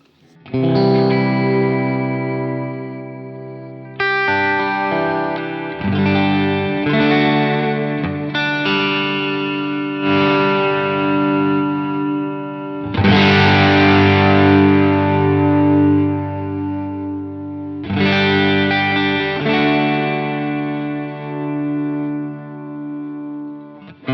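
Electric guitar through a captured distortion pedal on a Quad Cortex: thick, saturated chords and sustained notes ring out loud and close, with changes every few seconds and no voices.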